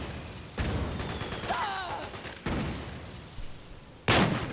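Explosions and gunfire in Metal Gear Solid 4, with several sharp blasts and bursts of shots separated by short pauses, loud and close, with voices talking between them.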